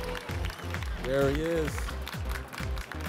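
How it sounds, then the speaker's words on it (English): Audience applause and crowd noise greet a guest brought onstage, dense clapping running steadily under a voice and a short sung or cheering tone throughout. "Can we get a round of applause for Mr. Nick Hayden?"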